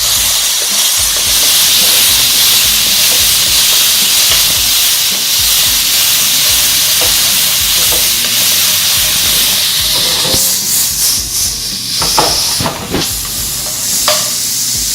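Shrimp frying in a hot pan for combination fried rice, a loud continuous sizzle and hiss with occasional stirring scrapes and clatters toward the end.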